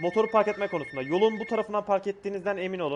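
A telephone rings in the GTA Vice City video game, a thin steady electronic tone running beneath continuous character dialogue throughout.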